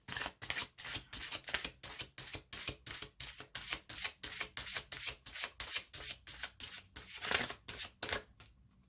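Oracle cards are shuffled by hand in a quick, steady rhythm of crisp riffling snaps, close and clear with no talking, running continuously for several seconds.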